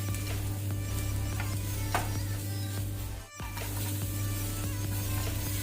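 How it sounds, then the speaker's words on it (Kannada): Masala and turmeric frying in hot tempering oil for a garlic egg dish, a steady close sizzle with faint stirring clicks and a constant low hum underneath. "ಇದನ್ನು ಸಹ ಈಗ ಸ್ವಲ್ಪ ಒಗ್ಗರಣೆಯಲ್ಲಿ ಫ್ರೈ ಮಾಡ್ಕೊಳ್ಳೋ"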